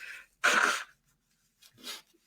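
A short, breathy blast of air through the nose of a man with a cold, followed after a pause by a softer second puff, close to the microphone.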